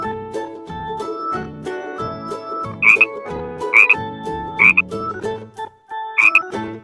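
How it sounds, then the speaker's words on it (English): A frog gives four short, bright croaks spaced about a second apart over continuous background music. "Frog."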